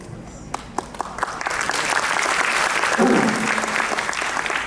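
Applause from a temple congregation at a Hindu discourse swells in after a few scattered early claps, then settles into loud, continuous clapping from many hands.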